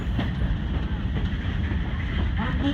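A Leadville Colorado & Southern Railroad train rolls along the tracks with a loud, continuous rumble and faint wheel clatter.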